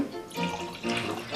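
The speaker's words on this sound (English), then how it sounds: "So I'm going to start by pouring you our 2010." 2010 Eroica Riesling is poured into a glass, a short, close burbling trickle of liquid running in two brief swells.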